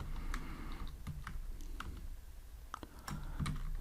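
Typing code on a computer keyboard, a run of light, quick key clicks in irregular bursts, close and fairly quiet over a faint room hum, with no talking.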